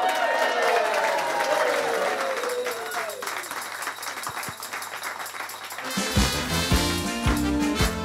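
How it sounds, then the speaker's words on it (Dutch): A carnival café audience applauds for Bram, a crowd clapping over the tail of a singing voice before music starts up. "geef Bram even een goed applaus"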